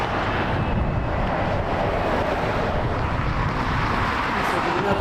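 An Embraer Regional Jet 135 Legacy 600 at Las Vegas airport produces a steady, loud jet roar mixed with wind buffeting on the microphone, with voices talking faintly underneath.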